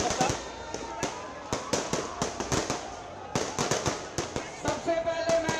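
Firecrackers set off by Aam Aadmi Party workers in India crackle in rapid, uneven bursts of sharp pops, loud and close, with brief pauses between volleys and a faint steady whistle-like tone late on.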